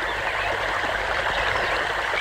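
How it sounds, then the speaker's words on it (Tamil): Water runs through an irrigation channel in a farm plot fed by a pump set, making a steady, even rushing and gurgling that continues unbroken and close by. "தோட்டத்துல யாருமே இல்லங்கிற வாய்க்கால இவ்வளவு தண்ணி போகுது"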